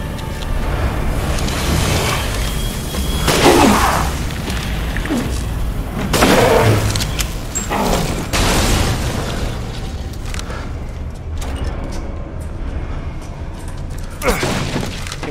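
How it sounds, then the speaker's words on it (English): Flashbang grenades going off in the video game Resident Evil Village, several loud booming bursts at intervals over a continuous noisy game backdrop, with faint voices mixed in. "Do flashbangs even work on these dudes?"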